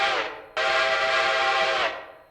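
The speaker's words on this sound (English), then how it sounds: "I am also using one of the loudest whistles in the game" A loud steam-style train whistle from the Railroader video game blows close and clear, a brief toot followed by a long sustained blast that cuts off cleanly.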